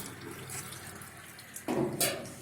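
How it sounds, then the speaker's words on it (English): Water gushes and splashes from the valve of a homemade metal aquarium clean-and-fill system, a steady running flow that grows louder and splashier toward the end as the valve is turned. "So water still comes out of the bottom like so. We turn the valve."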